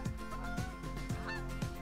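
Geese honk four times in a regular rhythm at a campground in Earl Rowe Provincial Park, fairly faint and some distance off, with soft rustling in between.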